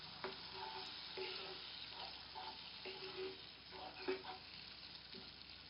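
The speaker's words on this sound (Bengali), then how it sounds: "চার 5 মিনিট ধরে মশলাটা ভালো করে কষিয়ে নেব" Spice paste with tomato for a chicken and potato curry sizzles and fries in a pan, a soft, continuous crackle broken by repeated scraping stirs, close by and fairly quiet.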